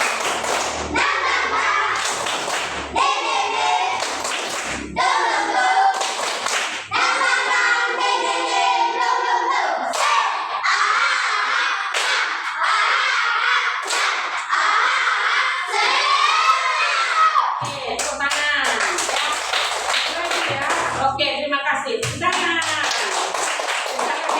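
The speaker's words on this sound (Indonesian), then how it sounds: "1, 2, 3. Tepuk semangat." Group in a school classroom performing the 'tepuk semangat' rhythmic clapping chant, loud patterned claps and thuds mixed with children's chanting voices, running steadily for a long stretch.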